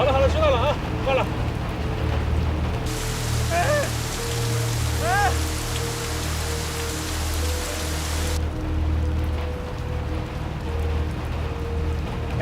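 Heavy rain drums steadily on a moving car during a stormy drive, a dense continuous wash over a low engine rumble, with brief squeaky tones early on and no talking.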